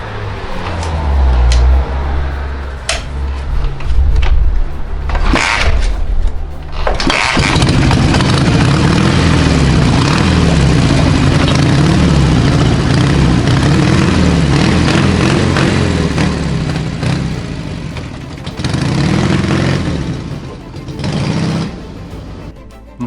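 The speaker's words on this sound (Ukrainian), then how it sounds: "Давайте швиденько поїдемо, прокатнемося на ньому" A Soviet-era Dnipro MT motorcycle engine running while the bike is ridden, a loud steady rough roar held for most of the run with revving swells and a brief drop near the end, sputtering at first and no talk.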